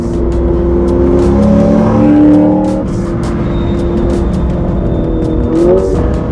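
Race cars lapping High Plains Raceway, a modified C6 Corvette and a BMW M3 among them, with loud continuous engine drone, rising and falling revs through gear changes and brief tire squeal, heard close from inside a car.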